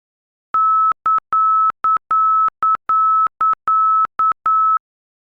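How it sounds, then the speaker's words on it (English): ILS middle marker beacon tone in an aircraft cockpit, a higher pitched steady tone keyed in a quicker alternating pattern of long dashes and short dots, crisp and isolated against silence. "The middle marker then has a faster pattern with a higher frequency and sounds as follows."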